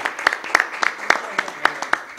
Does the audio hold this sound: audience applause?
yes